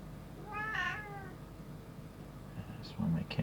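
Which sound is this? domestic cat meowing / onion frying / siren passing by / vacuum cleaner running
domestic cat meowing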